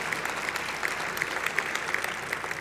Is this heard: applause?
yes